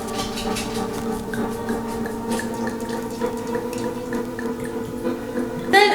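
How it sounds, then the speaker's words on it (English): 151 rum pours onto the top of a zombie cocktail in a thin trickle with soft dripping, close and quiet, ending in a brief louder splash. "Now we're gonna take our 151 and pour it on the top."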